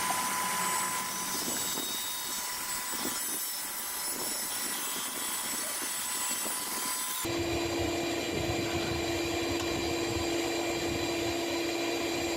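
A power saw runs through an angled cut in a wooden workpiece, a loud, close, droning whine that changes pitch abruptly partway through as the blade finishes and spins on, with no talking.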